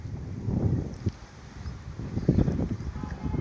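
Strong wind gusting outdoors on a cloudy day beside a parked vehicle, low buffeting rumble against the microphone that swells in two heavy surges, with faint rustling between them and no voices.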